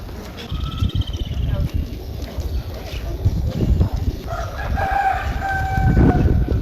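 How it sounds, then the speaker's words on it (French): Roosters crowing with birds chirping on a near-deserted street in Bamenda, Cameroon, mixed with footsteps and background voices, the crowing rising in several drawn-out calls. "dont le bruit des pas se mêle au chant des coqs et au gazouillis des oiseaux"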